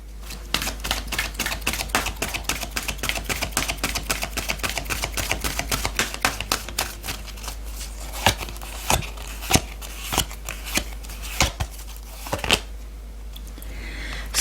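Tarot cards riffled and shuffled in a rapid, dense run of crisp slaps and flicks, then slowing into a few separate sharp card snaps and draws near the end, close and fairly loud.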